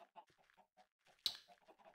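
Chickens cluck in Minecraft, a quick run of soft, short clucks at an even, faint level, with one brief louder squawk partway through.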